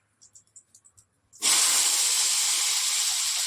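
Cut papaya and potato tipped into hot oil tempered with radhuni seeds and dried red chilli: a few faint crackles, then a sudden loud, close hiss of sizzling that carries on steadily.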